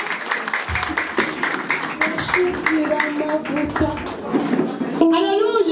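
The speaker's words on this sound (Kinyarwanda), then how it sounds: "Komera Imana amashyi." A church group claps in praise of God, the rapid patter running under loud voices and singing that rise and fall throughout, with a brighter burst of voices near the end.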